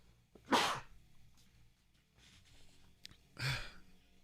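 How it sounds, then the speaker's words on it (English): Two sharp human sneezes sound close to the microphone, with a pause between them. The first comes early and the second near the end, separated by quiet room tone and faint breathy noise. "I'm sneezing a lot today."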